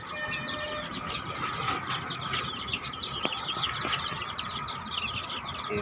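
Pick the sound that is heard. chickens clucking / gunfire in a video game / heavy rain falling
chickens clucking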